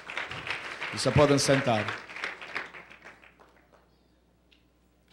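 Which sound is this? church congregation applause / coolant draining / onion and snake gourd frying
church congregation applause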